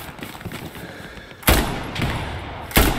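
Machine gun fire in the WWII shooter Hell Let Loose, distant bursts with two sharp loud reports standing out over a busy battlefield background, no talk.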